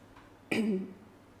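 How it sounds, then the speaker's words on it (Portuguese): A single short, throaty cough, close and clear, after a moment of near silence, followed by quiet. "estou com um bocadinho de tosse"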